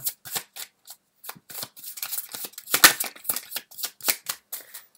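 Tarot cards being shuffled by hand, a run of quick crisp riffles and flicks in uneven bursts, close and clear with no voice over them.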